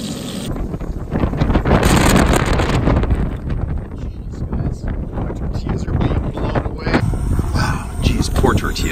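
Strong outdoor wind during a fishing trip cookout roars steadily and loudly across the microphone the whole time, with gusts rising and falling and voices partly buried beneath it.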